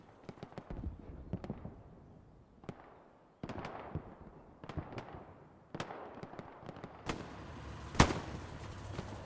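Artillery and gunfire crack and boom across a Hell Let Loose battlefield, a string of sharp irregular bangs at varying distances, with one especially loud blast near the end and no speech.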